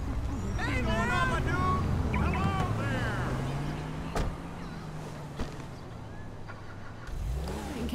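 Steady low engine drone of an Audi car in the video game GTA 5, running continuously at moderate level with voices talking over it in the first seconds and a few sharp knocks later.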